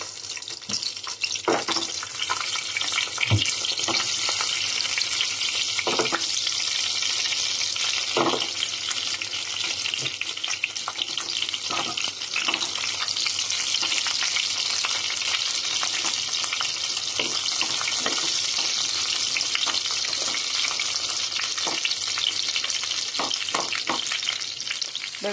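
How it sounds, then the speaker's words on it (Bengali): Salted eggplant pieces fry in mustard oil in a pan, a steady, close, loud sizzle that holds throughout, punctuated by occasional scrapes and taps as the pieces are stirred and turned. "আমি প্যানে সরিষার তেল দিয়েছি, এখন এগুলিকে সবগুলিকে ভেজে নেব।"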